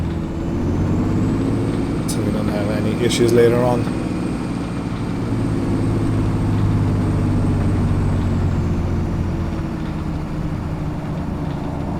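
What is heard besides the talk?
tractor engine running, from a video game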